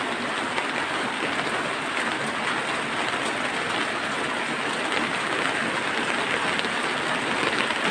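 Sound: rain falling

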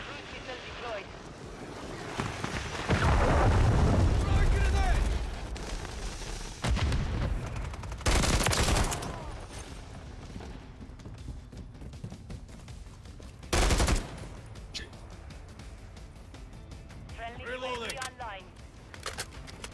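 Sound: gunfire and explosions in the video game Call of Duty Modern Warfare III

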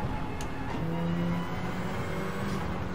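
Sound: Toyota Celica rally car engine in a racing video game

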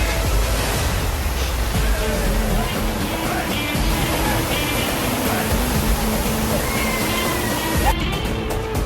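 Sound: Ullipitta waterfall, fast-flowing water after heavy rain

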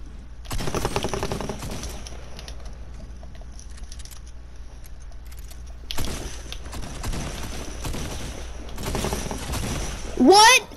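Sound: sniper gunfire in the video game Fortnite

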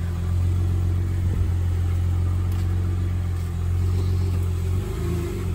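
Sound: 2019 Polaris RZR Turbo XP engine running

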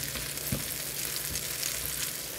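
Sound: thick cabbage pancake frying in a pan

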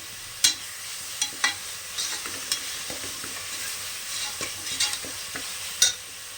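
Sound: sautéing ginger garlic paste in a pan for veg biryani

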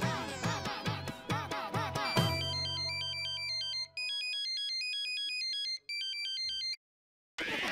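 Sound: phone ringtone ringing

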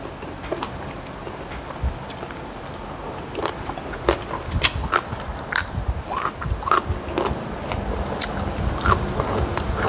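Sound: crunchy biting into raw sesbania flower while eating

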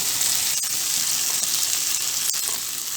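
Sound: rice sautéing in a pan for tomato pilaf

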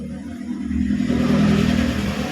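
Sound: broken-down motorcycle engine revving

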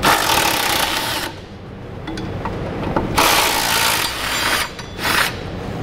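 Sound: socket ratchet backing out tow loop bolts on Lexus RX 330

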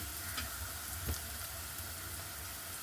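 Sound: onion frying in a pan

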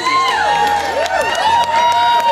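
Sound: enthusiastic crowd cheering

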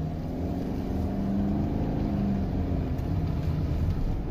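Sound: Subaru Forester engine accelerating uphill in first gear

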